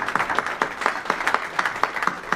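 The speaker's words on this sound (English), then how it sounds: "So let's all give Richard Williams a little round of applause." A luncheon audience claps in a brief round of applause, with individual hand claps standing out in a loose, moderately loud rhythm for a couple of seconds.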